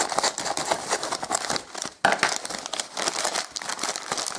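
Scissors and hands work at a parcel's packaging up close, giving a dense run of crinkling, rustling and tearing with a brief pause midway before the crackle resumes.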